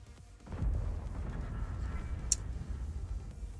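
A World of Tanks IS-7 heavy tank gun fires as one heavy boom followed by a low rumbling decay. There is a sharp click near the end, and no talk.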